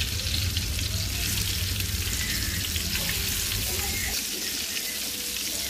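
Rohu fish pieces coated in turmeric, salt and chilli powder hit hot oil, giving a loud, dense, continuous sizzle that fills the clip up close, with no voices over it.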